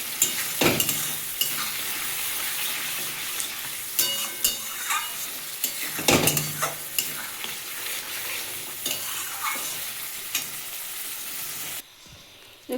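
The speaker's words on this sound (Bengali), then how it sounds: "আলুটা দিয়ে আমি একটু নাড়াচাড়া করে নেবো মানে একটু কষিয়ে নেবো" Fried potatoes are stirred into a pomfret curry masala, with a loud, continuous sizzle and repeated spatula scrapes, cut off near the end.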